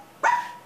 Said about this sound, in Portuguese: A campanha da casa do pobre é o cachorro.